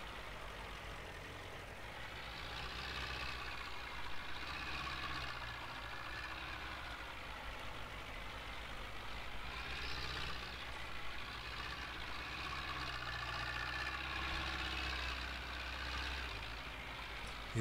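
A tractor engine in Farming Simulator 19 drones steadily uphill during forestry work, a low, continuous rumble with slight swells in pitch, moderately close and with no talking.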